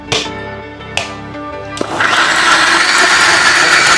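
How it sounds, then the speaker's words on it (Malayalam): A mixer grinder whirs to life after a few clicks, then runs with a steady, loud grinding roar as it blends chunky tapioca with water. "കപ്പ മിക്സിയിലേക്കിട്ടു കുറച്ച് വെള്ളം ഒഴിച്ചു ഇനി നമുക്കിതൊന്ന് അടിച്ചെടുക്കാം"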